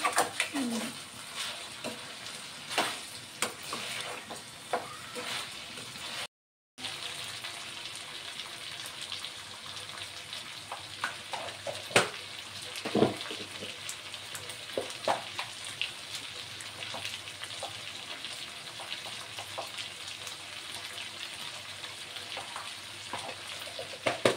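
Chicken fry frying in a pan makes a steady, dense sizzle with crackling pops. It runs continuously and close for the whole stretch, with only a brief gap.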